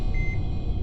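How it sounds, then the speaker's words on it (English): A short electronic beep sounds in the sci-fi video game Echostasis, a brief thin tone over a low rumbling game hum. "What is that beeping?"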